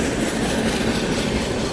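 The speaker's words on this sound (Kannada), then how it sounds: "ಆ ಕಡೆಯಿಂದ ಟ್ರೈನ್ ಬಂತು, ಇದು ಬರೋದು ಬೆಂಗಳೂರು ಕಡೆಯಿಂದ ಬರೋ ಟ್ರೈನ್" A train pulling into a station, arriving from the Bengaluru direction, heard as a steady, broadband rumble of moving railcars with faint wheel clatter, fairly close and continuous, with no talking.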